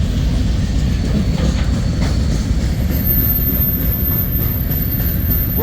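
A freight train bound for a grain-loading stop in Iowa rumbles past at close range, a steady heavy roar with faint rhythmic clatter and a thin high squeal throughout.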